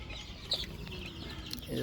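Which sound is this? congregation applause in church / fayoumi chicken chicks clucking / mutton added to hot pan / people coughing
fayoumi chicken chicks clucking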